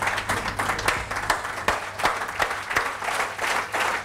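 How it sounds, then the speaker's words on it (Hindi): An audience at a motivational training session in Mumbai breaks into steady applause, many hands clapping in a dense, moderately loud patter that carries on without voices. "जोरदार तालियां सबके लिए"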